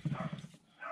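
A quick run of short, low dog barks or yips, brief and close, fading into quiet.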